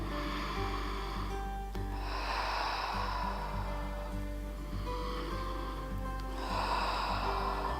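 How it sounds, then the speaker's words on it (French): Deep, slow breathing in and out as a thoracic breathing exercise during postpartum exercise, long airy inhales and exhales in a few cycles, close, over a steady low hum with soft music. "Donc on inspire et on expire."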